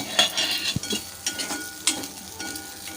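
A spoon stirs aval rava mixed with ghee in a frying pan, with faint sizzling and a few light metallic clinks against the pan, quiet and close.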